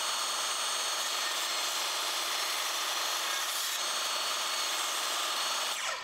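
A saw cuts through a scrap piece of wood in one steady, loud, continuous grinding rasp that lasts several seconds and then tapers off at the end, with no voices.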